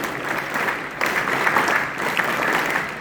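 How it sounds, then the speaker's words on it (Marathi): Audience applause at a school library prize-giving ceremony, a dense steady wash of many hands clapping in a hall, continuous and moderately loud. "आपण सगळ्यांनी टाळ्या वाजवून त्यांचं स्वागत करायचं आहे."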